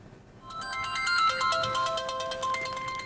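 A mobile phone plays a bright, tinkling melodic ringtone that starts abruptly and continues in a steady repeating pattern of chime-like notes, clear and close in a quiet indoor room.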